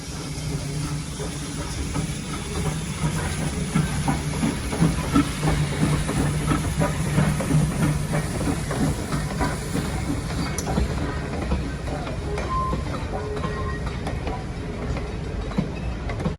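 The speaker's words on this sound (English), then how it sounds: "here's an American Alco steam locomotive at Heritage Park in Calgary, Alberta" An American Alco steam locomotive at Heritage Park in Calgary, Alberta hisses and rumbles steadily at close range, a broad continuous noise with faint clanking and mechanical rhythm throughout and no talking.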